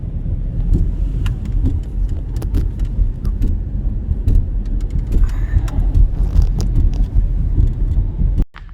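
Car driving across the Old Waimak Bridge near Kaiapoi, New Zealand, heard from inside as a continuous low road rumble with faint rattles and clicks, ending in a sharp thud.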